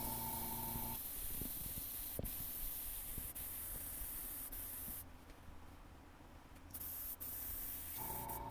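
An airbrush hisses as it sprays paint through a stencil, a steady soft spray broken by short pauses and faint clicks, close and fairly quiet.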